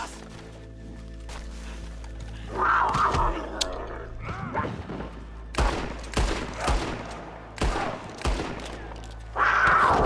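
Gunfire in the video game Red Dead Redemption II: several sharp shots in irregular bursts with quieter gaps and a low ambient hum underneath, and a brief cry from a voice.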